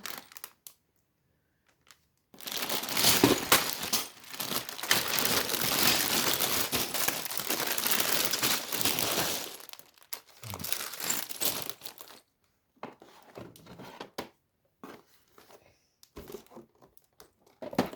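Plastic bags from a Lego City 60368 Arctic Explorer Ship set are torn open and crinkled up close, first in a long, continuous loud rustle, then in shorter, scattered crackling bursts with quiet gaps.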